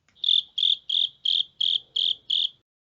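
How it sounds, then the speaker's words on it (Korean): Cricket chirping in seven even, evenly spaced bursts, each a crisp high trill, heard alone and close against near silence. "오늘도 영어 청취 도우미 귀뚜라미가 함께합니다"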